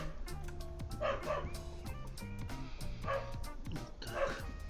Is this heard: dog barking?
yes